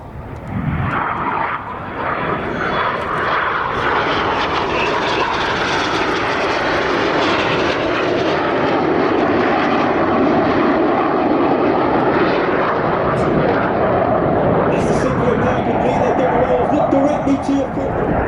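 Red Arrows RAF aerobatic jets roar loudly and continuously overhead during their final display manoeuvre at an air show, with a crowd and commentary faintly beneath.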